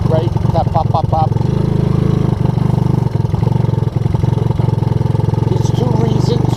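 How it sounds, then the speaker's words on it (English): A 1984 Honda ATC200S three-wheeler engine running rich, idling with a steady close mechanical drone, occasional uneven pops and stumbles, and a voice talking over it at the start. "You can hear it's still running rich, right? That pop, pop,"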